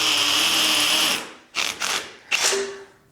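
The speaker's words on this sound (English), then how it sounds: "the drill is cooking" A power drill runs steadily and loudly while boring into concrete near rebar in a garage, then cuts out and returns in two short bursts after a brief pause.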